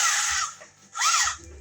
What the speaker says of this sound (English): so we're going to drill a hole through here.